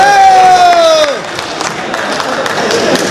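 A held sung or chanted tone fades out, then the audience at a Haryanvi poetry recital breaks into clapping and cheering, loud and close with scattered crowd voices.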